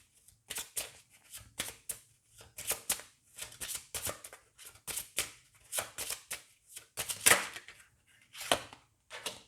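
Oracle cards being shuffled by hand, a long run of quick, crisp riffling bursts in an uneven rhythm, close and clear with no talking.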